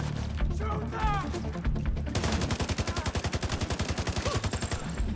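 Rapid automatic gunfire in the video game The Division 2, with a steady burst of evenly spaced shots that starts partway through and continues loud to the end, after some earlier scattered shots and game sounds.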